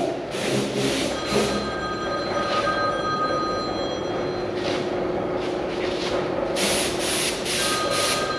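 A telephone rings in repeated loud bursts in a workshop where a saw is being checked, the rings coming in a steady pattern over a continuous background noise.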